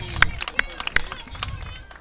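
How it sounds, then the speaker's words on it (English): Hand claps ring out near and sharp at a high school softball semifinal, several uneven claps over crowd murmur and low field noise. "Sorry if you can hear me clapping in the background"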